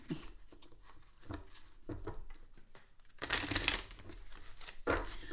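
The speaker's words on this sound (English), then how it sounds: "So when I shuffle, I be feeling like they're going to fly everywhere." A slippery tarot card deck being shuffled, with bursts of crisp riffling and crinkly card friction coming in uneven clusters, the loudest flurry near the end, close and fairly quiet with no talk.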